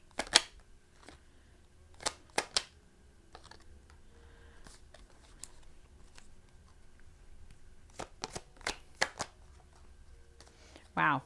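Tarot cards being shuffled and drawn, heard as a few sharp, close flicks and snaps spread across the clip, with long quiet stretches between them and a voice speaking faintly.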